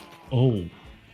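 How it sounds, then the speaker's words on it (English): A single short, wavering sheep bleat from Minecraft, clear and close, in an otherwise quiet moment. "That's a lot of sheep."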